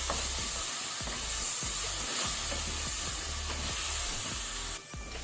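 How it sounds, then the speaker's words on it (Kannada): Ginger garlic paste and green chillies frying in a pan, a loud continuous sizzle and hiss with a regular rhythm of stirring scrapes running throughout. "ಈಗ ನಾವು ಜಿಂಜರ್ ಗಾರ್ಲಿಕ್ ಪೇಸ್ಟ್ ಶುಂಠಿ ಬೆಳ್ಳುಳ್ಳಿ ಪೇಸ್ಟ್ ಹಾಕೊಳ್ಳುವ. ಇದನ್ನು ಸ್ವಲ್ಪ ಫ್ರೈ ಮಾಡ್ಕೊಳ್ಬೇಕು"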